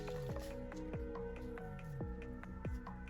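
Cold water splashed and rinsed over the face by hand, a series of close, soft wet squishes and drips repeating in an irregular rhythm, quiet and with no talking.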